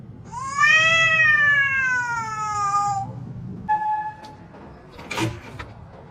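A pet cat gives a long, loud, drawn-out meow, then a shorter, fainter one, followed by a brief rustle or clatter against a low vehicle-like hum, with no talking.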